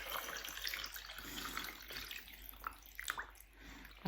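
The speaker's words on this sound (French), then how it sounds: "Et là, je couvre d'eau." Water running and splashing steadily into a cooking pot over vegetables and chicken for a couscous, close and continuous with faint clinks.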